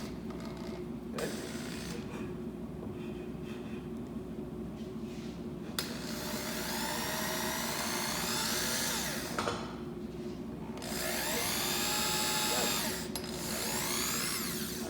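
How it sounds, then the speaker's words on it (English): A power drill bores through a wooden shelf bracket, whining in long sustained bursts with brief pauses and rising pitch sweeps, close and fairly loud, with no talking. "So this has now been successfully drilled through."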